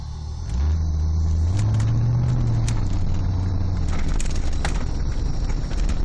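A 1987 Chevrolet Corvette engine rumbles deep and close as the car is put in gear and pulls away, the revs rising briefly and then settling into a steady drone.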